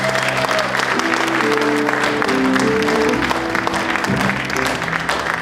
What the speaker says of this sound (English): Give her a bigger hand than that.